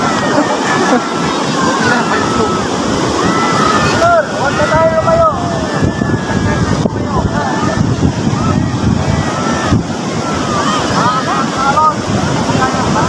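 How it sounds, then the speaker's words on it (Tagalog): Strong, large ocean waves surge and crash in a continuous loud roar at a beach too rough for swimming, with heavy wind buffeting the microphone throughout. "Grabe mga kabay, lakas talaga ng alon."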